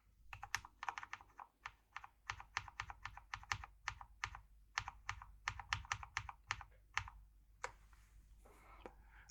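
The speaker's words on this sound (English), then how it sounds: "Let me write a quick bit of code." Steady bursts of close, crisp keystrokes on a computer keyboard while code is typed, clicks coming in quick uneven runs with brief pauses, no voices.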